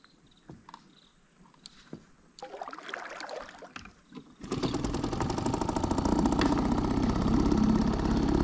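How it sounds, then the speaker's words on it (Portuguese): A small outboard motor on a fishing kayak setup starts abruptly partway through after quiet water sounds, then runs steadily and loudly, a continuous close engine drone to the end. "Eu vou ligar o motor."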